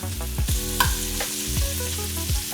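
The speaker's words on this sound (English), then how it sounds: "So I'm going to move these around, get them coated with a little bit of butter." Vegetables sauté in butter in a pan with a loud, continuous sizzle, broken by occasional stirring scrapes and a faint steady hum underneath, with no voices.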